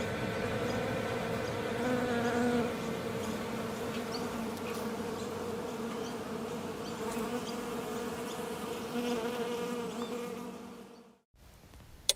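Flies swarm around a dead body, a dense continuous buzzing drone with steady layered tones that holds for about eleven seconds before cutting to near silence.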